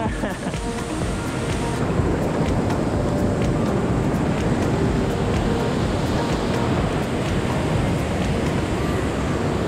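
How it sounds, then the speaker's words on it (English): Constant roaring wash of ocean waves churning close by beneath a waterfall on a Caribbean beach, loud and unbroken, like surf pounding around rocks, with wind buffeting the microphone. "the waves are trying to wash us off the rock"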